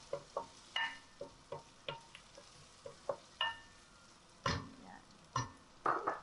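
A utensil scrapes and taps rhythmically in a pan as garlic cooks for a fish and ginger broth, with a soft sizzle underneath. A voice speaks briefly.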